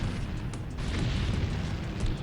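A thrown grenade explodes in the X-Com Apocalypse video game, with a steady roaring blast and deep rumble that fills the whole stretch at moderate loudness.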